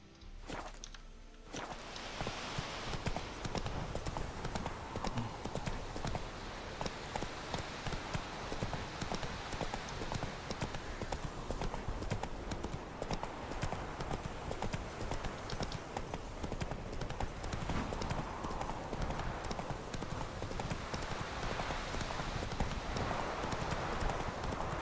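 Horse hooves from Roach in The Witcher 3, a steady clip-clop of walking steps continuing for the whole stretch over a soft game ambience, with no voice on top.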